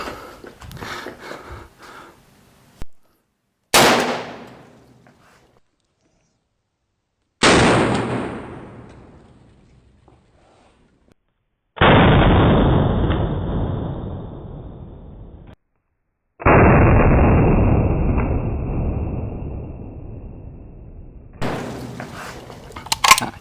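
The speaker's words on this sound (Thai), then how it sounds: "ยิงจบนะครับ ลูกหมดสไลด์ค้าง" A Derya MK12 shotgun fired one-handed: four loud, separate blasts spaced a few seconds apart, each followed by a long fading echo into near silence, with quieter handling noises at the start and end.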